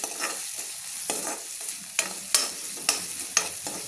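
Onion and green chili sauté with mustard seeds in a hot pan, a continuous sizzle punctuated by regular sharp scrapes and knocks of a spoon stirring, close and clear with no voices.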